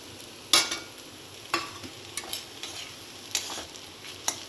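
A spoon stirs banana flower curry with coconut and nut paste in a pan, giving sharp scraping clinks at irregular intervals over a soft, steady sizzle, with no talk.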